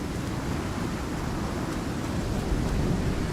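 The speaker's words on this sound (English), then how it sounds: "Okay, so now it's getting to the severe part of the storm." A severe thunderstorm rolls through the survival video game Icarus. Heavy rain and wind make a steady, dense roar, with a low rumble of thunder beneath it and no voices.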